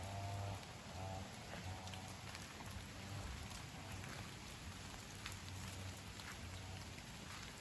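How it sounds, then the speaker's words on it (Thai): Steady rain falls in a Thai forest, a continuous dense hiss of drops on leaves and ground, even and unbroken throughout with no voices. "ฝนเนี่ยมันยังไม่หยุดเลยนะ มันตก ตั้งแต่เช้าเลยนะครับ"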